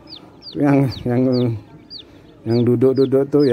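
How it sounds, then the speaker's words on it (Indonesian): In a large poultry barn holding about 24,000 twenty-day-old broiler chickens, the birds cluck in repeated close, loud calls, with someone speaking over them. "Sampai ujung sana ini ayam potong semua ini."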